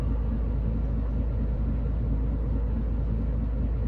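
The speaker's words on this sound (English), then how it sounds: "We are running Creechbomb's C15 underneath the hood. Just because the stock sounds, I'm sorry, they are absolutely pitiful" Steady, deep rumble of a modded Caterpillar C15 diesel engine in an International LoneStar truck in American Truck Simulator, a constant low drone idling without change or voices.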